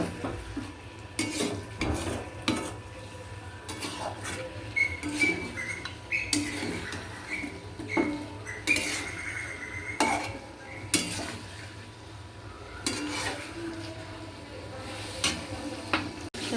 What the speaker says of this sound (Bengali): যে জলটা রয়েছে ওটা অল্প অল্প করে দেবো আর কষাবো